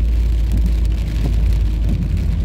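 Heavy rain pours steadily during a thunderstorm in Porto Alegre, a dense, constant roar of drops on surfaces with low rumbling beneath, loud and close throughout with no voices.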